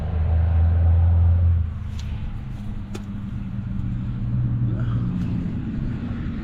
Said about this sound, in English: Something big with Jake brakes is coming by.